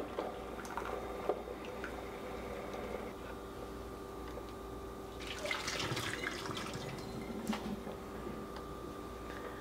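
Keurig K-Supreme coffee maker running water through a descale cycle: soft continuous gurgling and trickling with small drips and a brief louder splashing burst midway, close and quiet, no talk.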